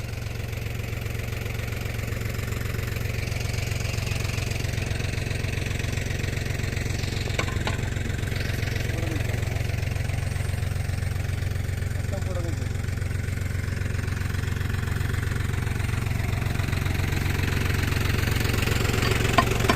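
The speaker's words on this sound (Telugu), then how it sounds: "Swaraj seven double four ఎక్స్టీ fifty HP Bandi" A Swaraj 744 XT 50 HP tractor stuck in the ground, its engine running at a steady mid-pitched idle-like drone throughout, with a few faint clicks and knocks and quiet voices in the background.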